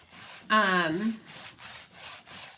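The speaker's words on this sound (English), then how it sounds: "I am going to wax this board" Wax is worked into a plywood board coated with chalkboard paint, heard as a rhythmic series of close rubbing strokes, with a brief squeaky tonal sound near the start.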